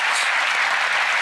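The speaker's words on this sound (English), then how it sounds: "Don't applaud that" Loud, dense applause from a studio audience watching a card-and-coin magic trick, a steady roar of many hands clapping heard up close for about a second.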